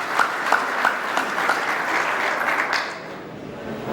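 A gathered audience claps in sustained applause, a few sharp individual claps standing out early before the sound tapers off toward the end.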